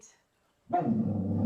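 Low, rumbling growl from the dog Baloo, starting abruptly after a quiet moment and continuing steadily close by, with rough grainy texture and no talk over it.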